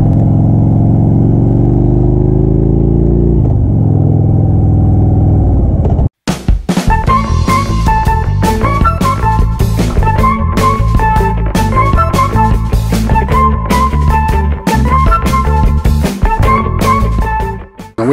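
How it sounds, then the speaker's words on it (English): A low motorcycle engine hum idles and revs up briefly, then after a pause gives way to a loud, steady motor drone with rhythmic pulses throughout as the motorcycle rides. "We're gonna go for a motorcycle ride."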